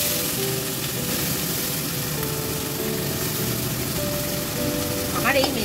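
Chopped garlic and onion sizzle steadily in a hot frying pan with oil, a constant frying hiss under a person speaking.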